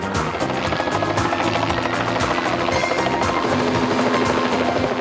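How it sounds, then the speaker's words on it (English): A rescue helicopter's rotor chops steadily through the whole stretch during a marine rescue display on Australia's Sunshine Coast, loud and close, with an even pulsing thrum and engine whine. "The Energix helicopter rescue service from the Sunshine Coast put on a display of a marine rescue."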